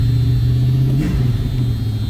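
A 1972 Ford Maverick engine turns over on a cold start and catches, settling into a loud, rumbling high idle with a brief rev close by.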